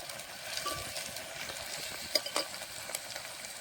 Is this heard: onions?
yes